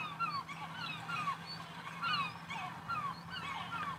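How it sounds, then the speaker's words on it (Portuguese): Seaside birds call in quick repeated chirps and honk-like cries, several at once, moderately loud over a soft wash of background noise, heard as soundtrack music-like ambience while the driver exits the pits in a Kia Niro hybrid. "pássaros cantando com o mar"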